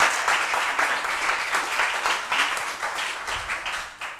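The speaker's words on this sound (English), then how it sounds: "Let's clap for them" A school quiz audience claps in steady applause, a dense, even patter of many hands that holds for several seconds before easing slightly near the end.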